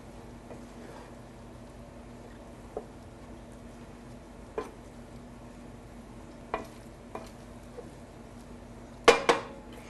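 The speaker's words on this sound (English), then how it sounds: "And we're going to give that a stir." A dish in a pot is stirred after parsley and chives are sprinkled on top, giving a few soft scrapes and utensil clinks against the pot, ending in a louder clatter, with no talk.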